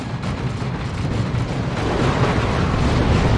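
Sustained rumbling barrage of long-range artillery shells landing in Dawn of War 2, a dense, continuous roar of overlapping explosions that builds slightly louder toward the end, with no talk over it.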